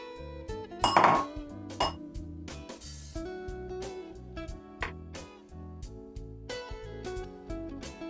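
Spatula scraping and stirring a vegan fennel and asparagus risotto in a pan, with repeated metallic clinks and knocks against the pan at an irregular rhythm, close and fairly quiet, alone without talk.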